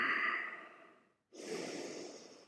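Slow, audible breaths during a yoga practice, one long exhale, a brief pause, then a deep inhale, close to the microphone and heard alone.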